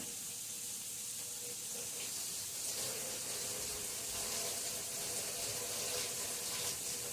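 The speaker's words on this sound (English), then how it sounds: "Wash my hands." Water runs steadily from a kitchen tap while someone washes their hands, giving a constant soft hiss and splash at low volume with no talking.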